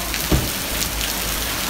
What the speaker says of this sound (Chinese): 好大雨啊！